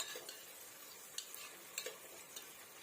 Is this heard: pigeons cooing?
no